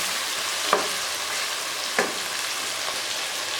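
Chicken sizzles steadily in hot oil in a pot while being browned for Lahori chicken cholay, a constant crackling hiss broken by two sharp clinks of a spoon stirring against the pot.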